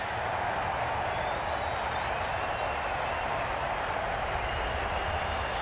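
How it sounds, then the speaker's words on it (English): A cricket crowd at a Sri Lanka versus Pakistan T20 international applauds a departing batsman, a dense, steady wash of clapping and cheering that holds at full volume throughout. "They will receive now the warmest of receptions from this crowd for a supreme display of batting."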